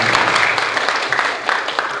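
Applause from an audience at an education award talk show, a dense steady patter of clapping lasting about two seconds at moderate loudness.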